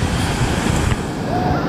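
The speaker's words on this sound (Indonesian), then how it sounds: "Oh, ombak masih kuat lah. Ombak masih kuat," Strong sea waves on the beach at Teluk Batik after rain, a continuous close rushing surf with wind noise buffeting the microphone, no speech.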